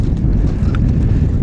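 Steady wind buffets the microphone outdoors on a Florida lagoon during kayak fishing, a loud, low continuous rumble with no voices.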